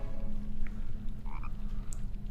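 Frog croaking in the Harry Potter and the Philosopher's Stone PlayStation video game, a short game sound effect heard over a steady low in-game background hum.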